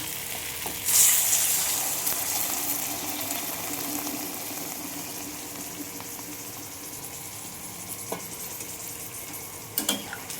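Water poured into sautéed masala in a hot pan hits with a loud burst of hissing sizzle near the start, then settles into a steady frying crackle with a few sharp clinks toward the end.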